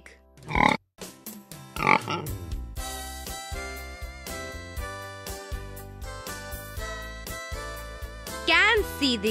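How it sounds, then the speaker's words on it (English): A pig grunts in a few short bursts near the start, set against a tinkly instrumental music bed with voices. "Pig."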